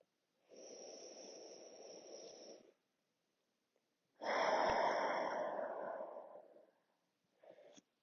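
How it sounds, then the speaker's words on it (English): A deep breath exhaled through an open mouth during a gentle neck, shoulder and upper back stretching session, two long, soft, airy exhales of a couple of seconds each, close and alone, the second stronger, with a brief breath at the end. "Open your mouth, exhale, melt into your mat. Do one more breath like that on your own."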